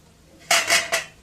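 Spatula or spoon scraping and clanking against a pan while chicken fry is stirred, a few sharp metallic strokes after a quiet moment.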